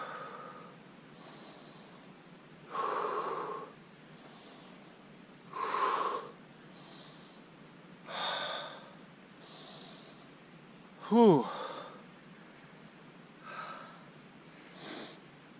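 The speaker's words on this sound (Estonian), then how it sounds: "Hingamine paika." A swimmer breathes heavily after an ice hole swim, with a slow series of loud, raspy huffs and snorting breaths spaced a few seconds apart, close to the microphone in quiet surroundings.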